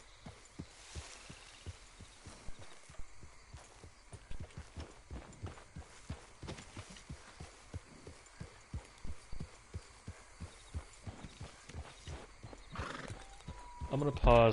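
Horse neighs and hooves clop steadily in Red Dead Redemption 2, a rhythmic train of footfalls running throughout with a whinny early on and a louder neigh near the end, mixed with game ambience.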